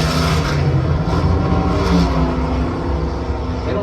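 Split-window 1963 Corvette race cars roar loudly during a race at Riverside, a dense, continuous engine drone with steady revving and no pauses.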